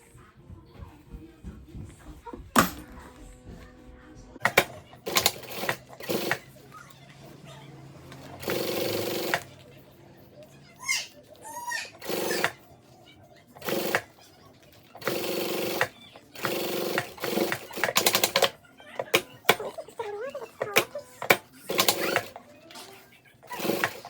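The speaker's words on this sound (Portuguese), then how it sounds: "Eu gosto de costurar assim, com ela virada pra dentro" A sewing machine stitches a heart-shaped fabric bag in repeated short, rapid runs of buzzing that start and stop, with quiet gaps and fabric handling between bursts.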